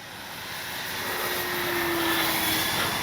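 Radio-controlled P-51D Mustang model warplane flying a snap roll, its engine a steady buzzing drone that swells gradually louder through the pass, with a rising whine over constant broadband noise and no talk.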